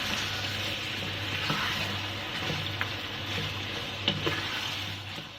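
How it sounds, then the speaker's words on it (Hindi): Steady sizzling of chicken frying in a karahi pan with garlic and ginger, with occasional stirring scrapes, close and continuous. "तो हम लोग चिकन के साथ फ्राई करेंगे लहसुन अदरक के।"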